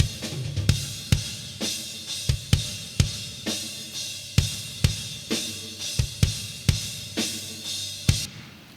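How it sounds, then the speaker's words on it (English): Processed top kick drum track from a worship music mix, steady punchy beats about every half second with bright attack and short decay, played alone and upfront. "So on the top kick, it sounds like this."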